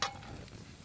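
Diced onions hit melted butter in a pan, a brief hiss and crackle rising at once and settling into a steady, close, moderate sizzle with no talking.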